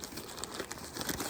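Crinkly rustling of waterproof lining material inside a Temu purse, a brief soft crumpling texture handled close to the microphone.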